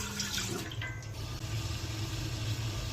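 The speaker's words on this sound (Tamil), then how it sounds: "தண்ணி ஊத்திக்கலாம்." Water poured into an idli steamer pot on a stove, a steady running, splashing flow lasting about three seconds at moderate loudness.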